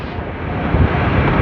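Steady cold wind roars and buffets the microphone outdoors in Anaikatti with a low, rumbling rush that swells slightly midway, with no voices.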